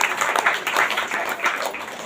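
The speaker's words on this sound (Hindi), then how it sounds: "इसलिए बहन परमेश्वर को जोरदार तालियों के साथ धन्यवाद देती हैं।" Loud, enthusiastic applause from a church congregation thanking God after a woman's testimony, a dense burst of many hands clapping close by.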